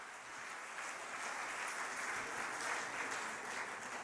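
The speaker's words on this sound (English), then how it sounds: "Let's give him a big round of applause" Steady applause from an audience at a healthcare rally, a continuous wash of clapping heard from a distance at moderate level, with no speech over it.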